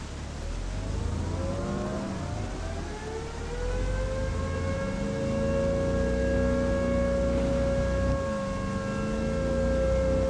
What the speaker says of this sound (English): Found siren.